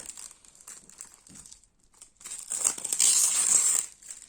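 Plastic shrink-wrap foil is peeled and crumpled off a boxed PC copy of Need for Speed Underground, with close crinkling and rustling that starts soft and intermittent, then swells into a dense, loud crackle near the end.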